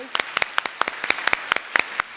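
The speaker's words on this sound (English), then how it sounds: "So give everyone a round of applause" Sparse, distinct claps from a small audience after a volcano demonstration at a university talk, a dozen or so sharp individual hand claps spaced irregularly over two seconds, close and fairly loud.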